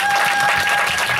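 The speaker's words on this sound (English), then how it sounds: "And yeah, you can clap now." An audience claps steadily at a Hawaiian culture talk, a short, dense burst of applause heard close.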